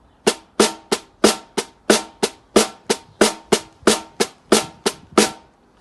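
Snare drum played in a steady rhythm of about fifteen sharp, crisp hits, some grouped in quick pairs, each ringing briefly and decaying before the next, close and on its own.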